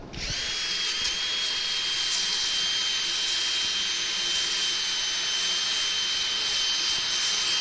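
Wood lathe running steadily while a gnarly crotch wood piece is turned, a loud, continuous high whine with a constant pitch and no talk.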